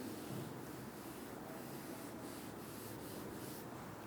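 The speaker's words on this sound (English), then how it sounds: "I'll rub the first one now." An eraser rubs out handwritten maths working on paper, a faint, steady scratchy friction that continues quietly for several seconds with no voices.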